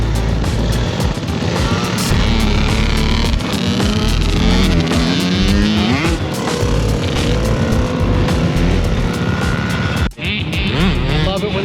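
Kids' dirt bikes riding a motocross track at a Texas moto park, engines droning and revving continuously up close, with rising and falling pitch as the bikes accelerate and pass.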